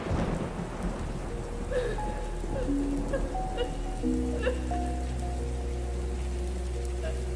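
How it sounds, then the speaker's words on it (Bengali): Heavy rain pours steadily as a sound effect in a Bengali audio story, with thunder rumbling low and sustained beneath a dense hiss of falling water, joined by faint scattered tonal sounds throughout. "প্রায় সাথে সাথে মুষলধারে বৃষ্টি শুরু হলো আবার।"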